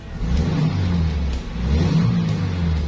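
A 1974 Toyota Corolla KE20 engine revs up, rumbling low and steady, rising and falling in pitch with no talking.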